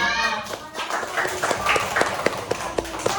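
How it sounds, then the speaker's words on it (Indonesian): Classmates clap for a student in an Islamic religious education class, quick uneven claps close by with children's voices mixed in. "Tepuk tangan buat temannya."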